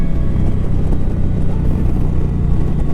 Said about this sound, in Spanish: esta parece ser también una moto que se desempeña bien en las curvas